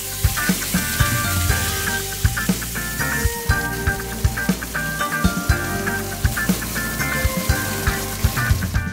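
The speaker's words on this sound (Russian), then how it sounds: "На сковороде гриль обжариваем наши медальоны равномерно с каждой стороны" Steady sizzling of beef medallions frying on a hot grill pan, with crackles and pops throughout, under a layer of music.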